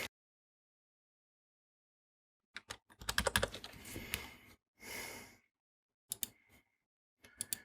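Computer keyboard keys tapped out in quick irregular bursts while an email subject line is entered, close and clear, with short pauses and a soft sigh or breath between runs.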